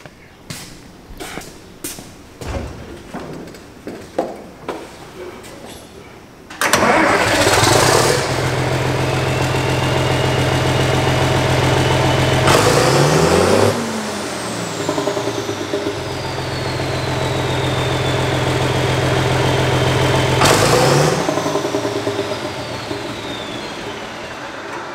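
A John Deere 4620 tractor with a 7-inch open stack cranks and fires up loudly about seven seconds in, then settles into a steady, heavy diesel rumble, with a rev swell midway and another near the end, after some earlier clanking.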